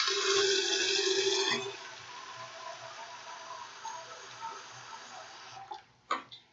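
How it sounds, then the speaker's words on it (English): Thirty-two ounces of water pouring into a container, mixed with barbicide for disinfecting: a steady, fairly loud splashing stream for under two seconds, then quieter trickling and a few clunks of the container. "I'm going to do 32 ounces of water again"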